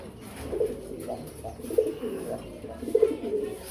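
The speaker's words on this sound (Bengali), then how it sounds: "কবুতরের কোয়ালিটি অসম্ভব ভালো কোয়ালিটির কবুতর এই যে দেখেন" Fancy pigeons give soft, low repeated coos at an indoor loft, several short calls spread across a few seconds under a faint background hum.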